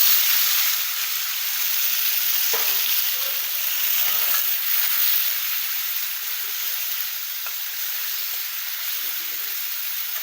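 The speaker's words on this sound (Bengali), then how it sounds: "এবার পেঁয়াজ কুচিগুলো দিয়ে ভালো করে ভেজে নেব।" Chopped onions fry in hot oil with dried chillies, cinnamon, cloves and cardamom, giving a steady, dense hiss of sizzling that runs unbroken and close, with faint stirring scrapes underneath.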